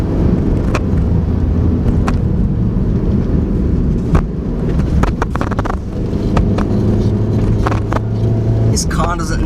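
A Suzuki Swift Sport hatchback climbs an uphill, cambered chicane. Its engine drones steadily under loud road and wind roar inside the cabin, with occasional faint clicks.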